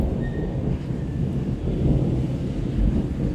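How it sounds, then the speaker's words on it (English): Low, rolling thunder rumbles steadily through a rainstorm outside, a dense wash of deep sound with slight swells and no voices. "you can hear the sound of thunder"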